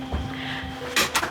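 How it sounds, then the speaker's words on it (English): An indoor door pushed shut in an animal shelter visit room, giving a single close thud with a short rattle of the latch after a moment of quiet room tone. "Shut the door"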